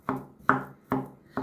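A knife chops potatoes into small pieces on a board for a crispy potato börek, giving four crisp, evenly spaced chops up close with nothing else heard.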